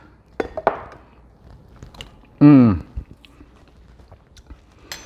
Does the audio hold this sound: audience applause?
no